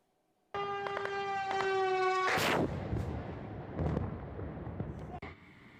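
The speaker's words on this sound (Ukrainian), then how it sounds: "Постріли, гул безпілотника та, врешті, вибух" A steady droning hum with tonal harmonics from a Shahed drone gives way to a loud blast, followed by rumbling noise and a few sharp bangs of gunfire.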